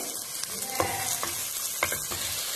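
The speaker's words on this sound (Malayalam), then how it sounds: "അപ്പോൾ നമുക്ക് ഈ സവാള നല്ലതുപോലെ കുറച്ച് ഉപ്പിട്ടതിന് ശേഷം നന്നായി വഴറ്റി കൊടുക്കാം" Sliced onions sautéing with salt in hot oil in a pan for a prawn semiya pulao, a steady close sizzle with a few sharp scrapes and stirring knocks.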